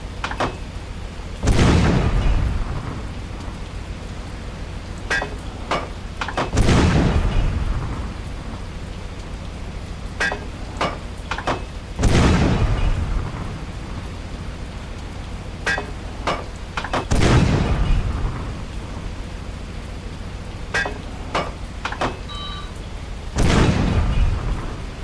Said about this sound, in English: I guess I'll just get up close and use the deck gun.